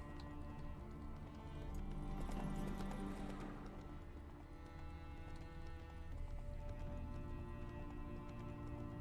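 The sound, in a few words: horse hooves in video game The Witcher 3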